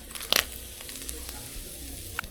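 Whole dry garam masala spices frying in hot oil in a kadai, a soft, low hiss with a sharp crackling burst near the start and a small pop near the end.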